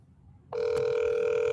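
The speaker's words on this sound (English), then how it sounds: "I wonder if he's going to answer the phone." A telephone rings on an outgoing call to a friend, a single steady tone starting abruptly and holding loud and close to the end, with no talk over it.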